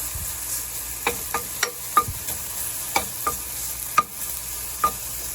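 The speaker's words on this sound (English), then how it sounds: "Now I got my bacon frying up here." Bacon sizzles in a pan with a soft, steady hiss, punctuated by sharp pops and crackles every half second or so.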